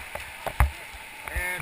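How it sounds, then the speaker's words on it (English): Raft paddles back-paddling in river water on the American River, a few soft splashing strokes at a steady rhythm, close by, with talk heard faintly in the background. "And back paddle, back paddle, back paddle."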